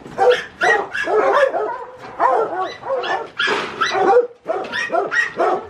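Several dogs bark and yip loudly and close by in rapid overlapping bursts, with some whining mixed in and a brief pause near the end.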